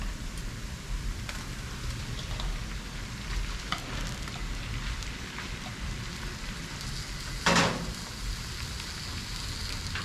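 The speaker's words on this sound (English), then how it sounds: "So while it's frying up, I will go ahead and add my shrimp, my jumbo shrimp." Jumbo shrimp frying in a pan with garlic at slow heat, a steady close sizzle and crackle running throughout, with one brief louder burst near the end as the pan is stirred or shifted.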